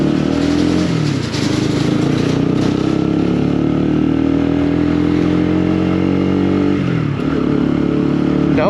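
A Honda CBR125 sports motorcycle is ridden with a continuous buzzing engine note that climbs and drops with gear changes, loud and close, with wind noise and a faint voice underneath.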